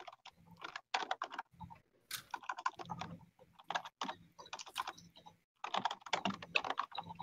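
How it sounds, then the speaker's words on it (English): Rapid computer keyboard typing clatters in quick bursts with short pauses between runs of keystrokes, close and fairly quiet, during an online tabletop role-playing game session. "Sounds like a lot more typing this time."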